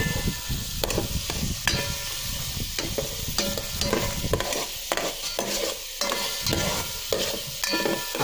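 Tomato, onion and garlic fry in a pan while being stirred, with steady loud sizzling and repeated scraping strokes of a utensil throughout.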